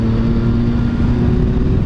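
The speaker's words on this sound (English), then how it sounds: "I think this sounds fantastic just as it is. Very distinctive note if you've never ridden the Triumph." A 2016 Triumph Speed Triple R motorcycle idles close by, a steady, deep engine rumble with a low droning hum running continuously and evenly throughout.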